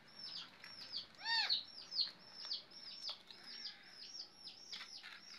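A pet parrot chirping indoors, a run of sharp, high repeated chirps and short whistled calls in quick irregular bursts, close and clear with no talking.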